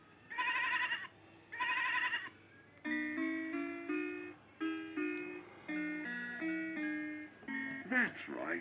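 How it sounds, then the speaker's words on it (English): A Chicco talking farm house toy plays two electronic sheep bleats, each about a second long, followed by a short synthesized jingle of stepped tones, with a voice briefly at the end. "That's right. This is the white sheep."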